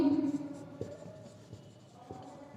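Chalk writing on a classroom board during a Hindi maths lesson on compound interest, a few faint taps and scratches sitting under a steady low hum and faint background voice.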